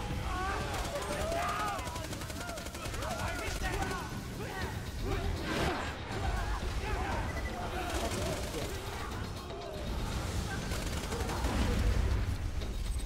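Maya firing a scoped gun in Borderlands 2: bursts of rapid gunshots crackle under near-constant voice chatter, with shots and impacts recurring across the stretch.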